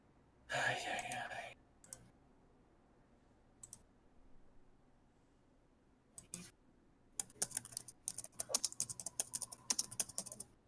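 A computer keyboard clatters in short bursts of typing clicks, quiet and near, with gaps of silence between them and a rapid flurry near the end. Faint talk is heard alongside.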